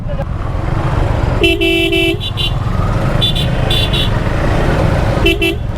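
A group of motorbikes rides together on a road trip in Bangladesh, engines droning steadily while horns honk in several short, loud bursts close by.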